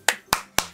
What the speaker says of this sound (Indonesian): Yuk. Tepuk semangat.